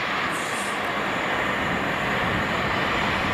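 Loud, steady roar of an Aeromexico Boeing 737-8 jet near Boeing Field, a continuous broadband rush filling the whole stretch without a break.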